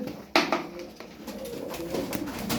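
Pigeons coo softly nearby, several low warbling calls overlapping against a quiet background.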